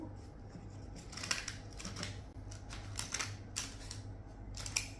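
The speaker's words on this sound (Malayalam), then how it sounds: "ഞാൻ കട്ട് ചെയ്ത് കാണിച്ചു തരാം കേട്ടോ. അപ്പോൾ പേപ്പർ എടുത്തു" Scissors snip through paper in a run of crisp, closely spaced cuts over a steady low hum, close and fairly quiet, with no talking.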